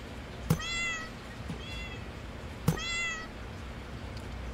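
Cartoonish cat meows in the Fireworks Mania game, two clear harmonic meows each preceded by a sharp click or thump, a quieter one between them, over a steady low hum.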